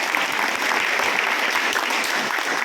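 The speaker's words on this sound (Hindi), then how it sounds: "मैं चाहूँगा एक बार जोरदार तालियां इनके जोश के लिए।" An audience at a Rishikesh campaign gathering backing a candidate claps loudly and densely, a dense, sustained wash of hands that stays strong throughout.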